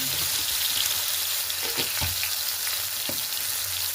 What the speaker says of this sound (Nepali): त्यसमा टमाटर हाल्नु, टमाटरलाई मजाले पकाउनु